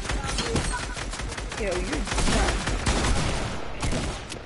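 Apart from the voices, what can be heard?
gunfire in a video game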